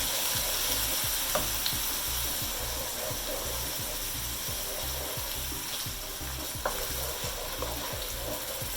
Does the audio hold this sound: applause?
no